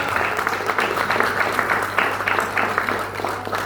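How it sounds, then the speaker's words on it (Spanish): A church congregation breaks into applause, a steady wash of many hands clapping together that lasts several seconds at moderate loudness, with a low hum running underneath. "Den un aplauso al Señor"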